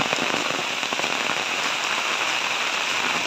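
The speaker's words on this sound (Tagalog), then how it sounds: "Ang ulan dito sa baybay." Steady rain pours down near a coastal shore, a dense continuous patter on surfaces close by with no pauses and no talk.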